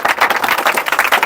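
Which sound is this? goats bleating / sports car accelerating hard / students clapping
students clapping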